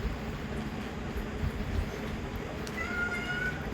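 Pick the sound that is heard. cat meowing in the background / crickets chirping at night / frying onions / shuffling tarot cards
cat meowing in the background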